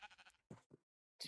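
Sheep in the video game Minecraft bleat in a few short, close calls, one after another with brief silences between them and no talk.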